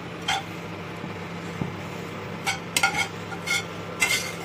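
Fried prawns are added to a pot of tender drumstick-stalk curry, making a few clinks and scrapes of a utensil against the pot over a faint steady background, close by and with no talking.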